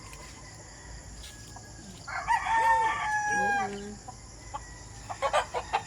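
Fighting roosters outdoors give one loud, drawn-out crow in the middle, followed by scattered clucks and sharp calls, over a steady insect drone with a brief spoken word.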